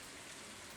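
Steady rain falling in the video game Stardew Valley, a soft continuous hiss of drops on surfaces, faint and even throughout with no voices.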